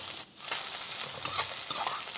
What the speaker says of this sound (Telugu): టమాటాను కూడా బాగా కొద్దిగా ఉడికేంతవరకు ఫ్రై చేసుకుందామండి.